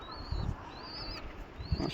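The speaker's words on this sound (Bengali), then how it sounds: "তো এই হলো কবুতর" A pair of Teddy highflyer pigeons give a few soft, low, throaty coos in quick pulses, quiet and close, alongside a thin high wavering whistle.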